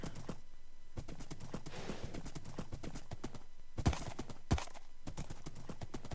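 Horse hooves gallop in the fantasy video game Istari, a fast, steady clip-clop rhythm close by, with two louder thuds partway through and a faint background wash beneath.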